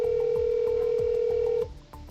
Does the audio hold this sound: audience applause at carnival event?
no